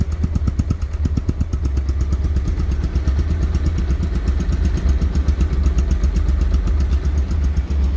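Close, steady running of a Bajaj Pulsar double-disc ABS motorcycle engine, a 2023–24 model, with an even rapid putter and mechanical clatter throughout, no voices.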